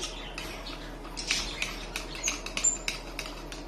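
A metal teaspoon stirring water in a glass, producing light, irregular clinks and taps against the sides in quick succession, close and fairly quiet with no talking.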